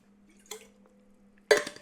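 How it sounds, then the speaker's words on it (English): A gamer drinks water mid-session: a couple of brief close sips or gulps and a sharp clatter as a cup or bottle is set down, over a faint steady hum, with no talk. "Let me drink some water"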